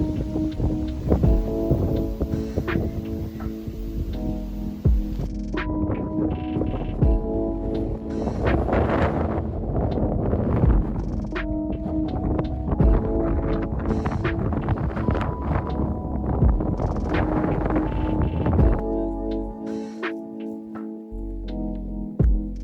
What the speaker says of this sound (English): Super windy up here